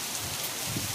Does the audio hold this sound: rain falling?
yes